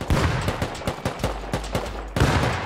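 AK rifle gunfire in the Rust video game, a rapid string of loud, sharp shots in a quick irregular rhythm, some in close bursts, with heavy low booms near the end.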